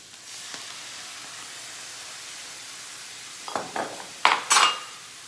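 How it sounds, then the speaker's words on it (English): Half a cup of wine is added to a hot Saladmaster pan over medium-high heat, giving a few short bursts of loud sizzling and hissing after a quiet stretch, with light utensil clinks. "turn up the heat back up to medium-high and add the wine"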